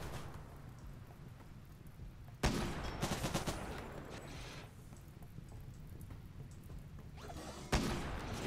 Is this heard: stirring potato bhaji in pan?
no